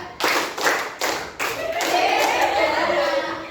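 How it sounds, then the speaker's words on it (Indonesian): A group of teacher trainees at a university in Cirebon claps in unison as a drill, several sharp, evenly spaced group claps that give way to a looser, continuous patter of hands. "Dua kali tepuk tiga."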